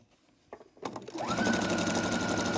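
A sewing machine stitches a black and white quilt, a few clicks and thumps as it starts, then a steady close whirring hum with rapid needle ticking.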